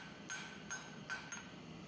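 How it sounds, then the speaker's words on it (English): A hammer strikes a steel bar four times while it is being forged, as the square stock is worked down to an octagonal cross section. The blows are faint, spaced roughly evenly, and each rings briefly with a metallic tone over a quiet room. "I'll forge those down with firm blows"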